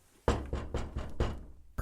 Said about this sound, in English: presently the Pakkerbacker heard an innocent knock at his door